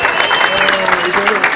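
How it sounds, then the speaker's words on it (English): An audience at a short film screening and Q&A applauds, a dense steady patter of many hands clapping, loud and close, with voices mixed into the crowd noise. "Big round of applause for everyone."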